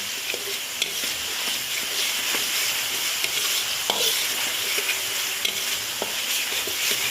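Steady sizzling and crackling of spice paste frying in a hot pan with water added, with occasional soft stirring scrapes, no talking.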